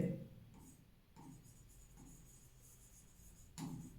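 Chalk or marker strokes on a board during a Class 9 lines and angles maths lesson, a few short, quiet scratches spaced a second or so apart, with a teacher talking over them.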